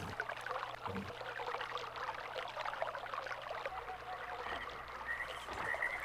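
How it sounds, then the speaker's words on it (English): Water flows through pipes in the Myst video game as a continuous burbling, pouring rush with small croaking gurgles, steady and fairly faint over a low hum. "you can hear the water flowing through the pipes"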